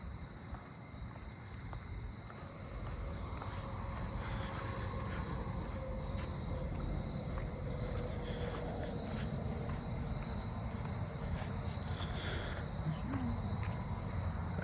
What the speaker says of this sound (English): I hear an Allard's ground cricket over there somewhere.